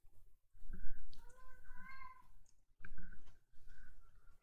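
A house cat meows several times close by, fairly quiet and drawn out, with faint clicks and room noise around it.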